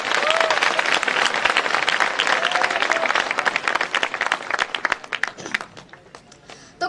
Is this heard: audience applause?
yes